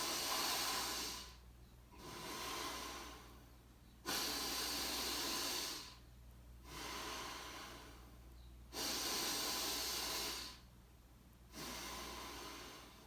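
Slow, steady breathing in and out through the nostrils during a box-breathing exercise, with long airy breaths alternating in a regular rhythm and clearly audible on its own.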